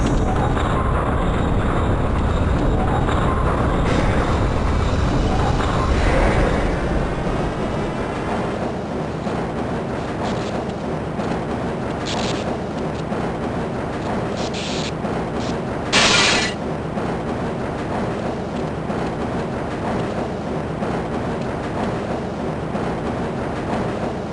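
A transit tram rumbles steadily along its track in the Black Mesa facility in Half-Life: Blue Shift. Continuous loud rolling noise carries occasional metallic clanks and hisses, with no talking.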